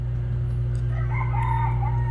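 A rooster crows at a distance over a steady low hum, a single drawn-out call rising and falling.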